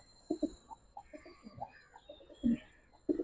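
Soft, low pigeon coos repeat in short bursts close by, with quiet pauses between the calls and no talking.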